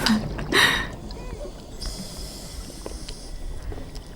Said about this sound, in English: So we hear him adjusting the buoyancy.